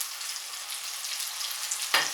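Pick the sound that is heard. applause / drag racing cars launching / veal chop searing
veal chop searing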